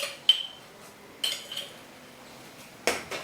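A metal spoon clinks against a cooking pot while sugar is stirred in, giving a few sharp, separate taps spread out over a quiet kitchen background.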